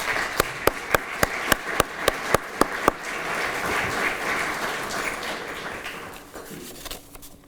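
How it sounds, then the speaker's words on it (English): Audience applause at a Veterans Day ceremony: a run of about ten sharp, evenly spaced claps opens, then a broad wash of crowd clapping swells and fades out near the end. "Please, let's give them all a round of applause."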